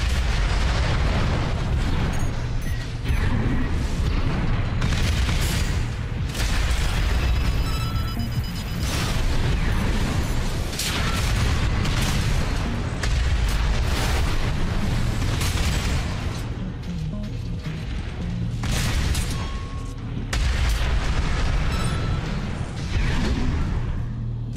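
Repeated heavy explosions from a missile shotgun in Armored Core 6 boom and crackle in loud, overlapping bursts across a long stretch of mech combat, with no voices.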